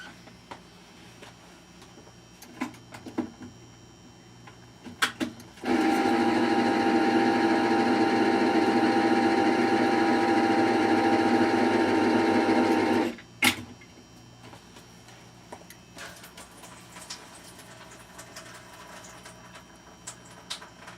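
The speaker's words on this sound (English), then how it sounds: "using a mortar and pestle, I grind it up myself." Crushed rosemary is ground in a mortar and pestle, a dense steady grinding rasp lasting several seconds, close and loud, framed by a few sharp taps before and after.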